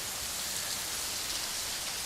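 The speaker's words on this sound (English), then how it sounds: "This is the Fountain of the Deluge" Water from the Fountain of the Deluge, an ornamental garden fountain, gives a steady, dense hiss of falling and splashing water that runs evenly throughout with no voices.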